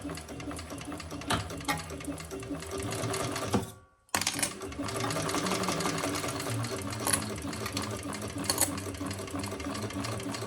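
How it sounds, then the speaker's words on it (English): A sewing machine stitches down the sides of a leather Burcham crossbody bag with a steady, close, fast mechanical whirr, pausing briefly in the middle before running on. "so we're going to stitch down each side."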